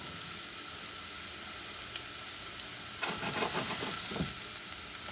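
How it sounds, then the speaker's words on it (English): Chopped onions caramelizing in a pan for a chickpea and shrimp soup, a quiet, steady sizzle with a brief burst of stirring and crackling partway through. "just the onions. Going to caramelize it a little bit."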